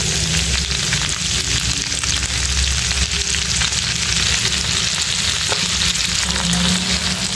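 Garlic, green chili and onion fry in hot mustard oil in a kadai, giving a loud, steady, unbroken sizzle throughout.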